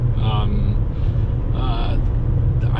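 A 2020 Toyota RAV4 TRD Off Road with a 2.5-liter inline four-cylinder hums along in a steady low cabin rumble while being driven, with someone talking over the smooth engine drone.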